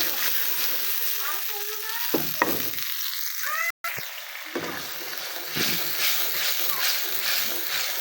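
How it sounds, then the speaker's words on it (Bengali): Spice paste fries in hot oil for a quail egg bhuna, sizzling and spitting close by as a spoon stirs and scrapes the pan, with a brief dropout midway and a few clattering knocks. "মশলাটাকে কষিয়ে নিচ্ছি ভালোভাবে"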